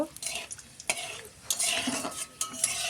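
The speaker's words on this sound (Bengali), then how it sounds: "তো লঙ্কাটাকে ভালো করে নেড়ে চেড়ে নেব।" Chillies sizzle softly in hot oil while a spatula stirs and scrapes the pan in uneven strokes, close and fairly quiet.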